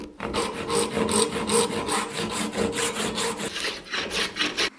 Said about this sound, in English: We'll rip our stock now to 7/8 of an inch.